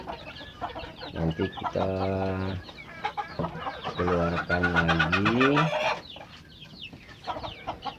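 A brooding hen and chickens cluck in a coop: a few close, drawn-out throaty clucking calls in two main bursts, with short scattered clucks between and a voice talking briefly.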